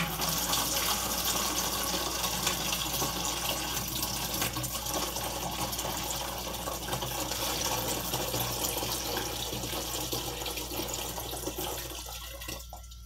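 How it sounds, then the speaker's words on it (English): Water running continuously from a tap into a gravity bong, a close, steady rushing pour that fades slightly toward the end. "I'm going to fill it up with water."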